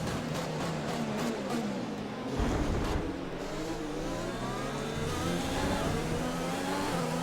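Race car engine in F1 2020 holding a steady, loud high-pitched whine with shifting harmonic tones as a rival car closes in to overtake, one brief surge of extra roar near the middle.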